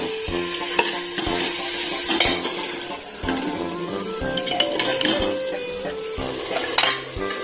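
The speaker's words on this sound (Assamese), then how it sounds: "এনেকৈ লাহে লাহে মাংসখিনি প্ৰায় ভাজি আছোঁ আৰু ভাজা হৈছে প্ৰায়খিনি" Meat is stirred and fried in a pan, a metal spatula scraping and clinking against it in irregular strokes over a soft sizzle, close and continuous.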